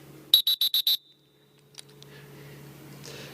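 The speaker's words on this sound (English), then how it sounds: "And there's a whistle when a player is retired." A pesäpallo umpire's whistle signals a retired player with five short, sharp, evenly spaced blasts in quick succession, loud and close, followed by quiet room tone and a faint knock.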